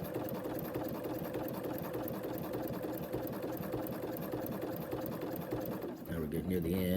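A sewing machine runs steadily, stitching fabric held in a sewing jig, its continuous motor whir and rapid needle clatter filling the clip before it slows and shifts near the end.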